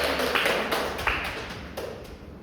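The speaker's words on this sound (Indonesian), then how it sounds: "Beri tepuk tangan dong untuk teman kalian yang presentasi." Classmates in a classroom applaud a peer after a presentation, with brisk scattered clapping that comes in a few quick bursts.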